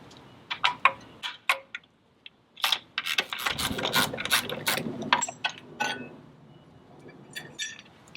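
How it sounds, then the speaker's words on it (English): Tools work on the trim tab anode of an OMC outboard gearbox, giving close metallic clinks, scrapes and ratcheting in uneven bursts, with a longer stretch of rubbing and clanking in the middle. "I'm going to take the trim tab anode off first."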